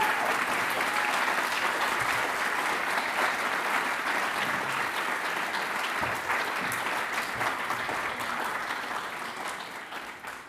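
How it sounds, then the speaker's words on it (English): Sustained applause from a graduation ceremony audience for a brass quartet of the Orchestra of Vienna, a dense, steady wash of clapping that holds for several seconds and begins to thin toward the end. "give a big round of applause to the brass quartet of the Orchestra of Vienna"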